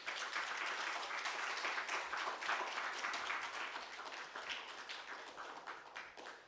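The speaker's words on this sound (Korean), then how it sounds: "교수님이 오늘 귀한 말씀 들으실 때 박수로 한번 환영하겠습니다." An audience in a church claps to welcome a visiting professor, a quiet, even wash of many hands heard from a distance, sustained throughout with no talking over it.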